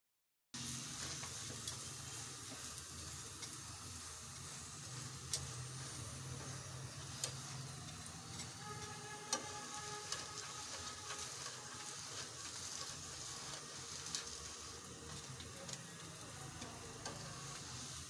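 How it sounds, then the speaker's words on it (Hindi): Radish paratha frying on a pan, a steady crackling sizzle that runs without pause, close and fairly soft, with faint scraping as it is turned. "ऐसे हम घुमा के इससे अच्छी सी इसकी फ्राई कर लेंगे।"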